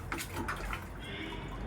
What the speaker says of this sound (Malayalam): ചെളിയൊക്കെ ഇങ്ങനെ വാരി തേച്ച് കഴുകി അങ്ങോട്ട് ഇരിക്കുക